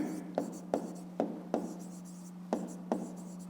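Pen on paper while writing out a math exercise answer, soft scratchy strokes with several sharp taps spaced through, faint and close over a steady low hum.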